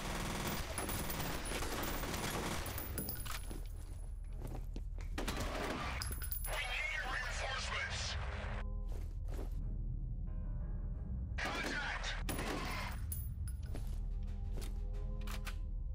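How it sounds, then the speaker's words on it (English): Dual pistols firing in the video game F.E.A.R., rapid bursts of gunshots in loud clusters with short gaps, dense and close. "I have dual pistols now."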